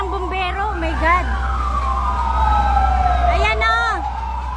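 Fire truck sirens wail and sweep up and down at a campus fire, loud and close over a steady low engine rumble, with people talking nearby.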